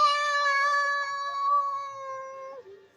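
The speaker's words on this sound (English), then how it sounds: "let out a loud meow." A cat lets out one long, loud, drawn-out meow that holds steady before dropping off at the end.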